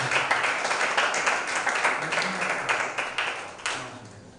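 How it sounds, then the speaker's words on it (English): A bootcamp audience of creative writers and readers applauds Mr. Paul, a moderate room-filling patter of clapping with some sharper individual claps standing out as it slowly tapers. "round of applause for Mr. Paul."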